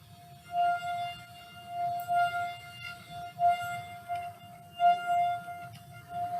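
A wine glass partly filled with water rings with a steady resonant tone held for several seconds, swelling and fading in loudness over low background noise.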